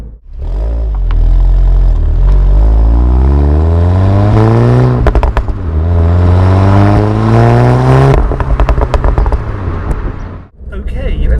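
A Volkswagen Golf GTI Clubsport S engine revs up hard through rising pitches with a throaty, crackling exhaust, loud and close, then cuts out abruptly near the end.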